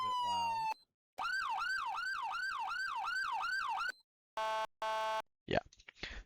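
An electronic police siren on a 2021 CHP Ford Explorer in Roblox cycles through patterns: a brief wail, a rapid warbling yelp, then short steady tones and a quick burst, each cut off abruptly.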